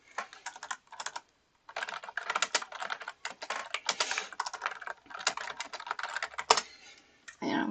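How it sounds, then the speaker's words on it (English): Steady, close typing on a computer keyboard in bursts of rapid key clicks with short pauses, fairly quiet, with a soft voice briefly at the end. "I'm just typing right now"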